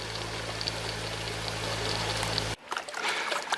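Water trickles and streams steadily at a gold-digging site, with an engine droning underneath, until the sound cuts abruptly to a quieter, splashing flow near the end.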